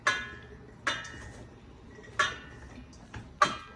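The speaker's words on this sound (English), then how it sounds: "fill your mason jar" Freshly snapped green beans dropped into a glass mason jar for canning, making four sharp, separate clinks close by, each ringing briefly against the glass in an otherwise quiet kitchen.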